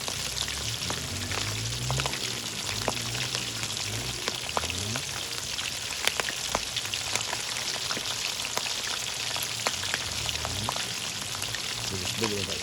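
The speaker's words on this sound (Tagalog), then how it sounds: "kailangan natin siyang i-fry lang din siya para matigas or para mag-crispy" Chicken feet crackle and sizzle steadily while deep-frying crisp in hot oil at a farm, a dense, close, continuous spatter with some voices talking underneath.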